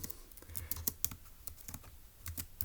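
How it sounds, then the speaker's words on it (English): Fingers typing on a computer keyboard, a quick irregular patter of light key clicks at close range, fairly quiet, with no one talking. "let's go ahead and type that up in our notes in section A"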